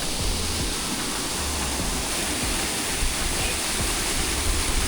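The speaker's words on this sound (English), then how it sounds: "Anyway, waterfall." Waterfall in Sardinia pours down in a steady, dense broadband roar, loud and close, continuous for the whole stretch with no break.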